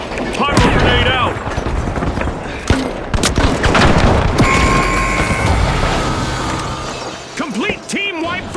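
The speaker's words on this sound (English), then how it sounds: "Pyro grenade out!" A pyro grenade in The Finals bursts in a loud boom with crackling, shattering debris and gunfire, then a sustained fiery roar; a voice speaks over the chaos.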